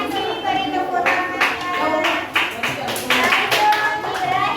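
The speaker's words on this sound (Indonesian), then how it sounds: "beri tepuk tangan" Classroom applause after a student's answer, several children clapping in overlapping bursts at moderate distance, with faint voices mixed in.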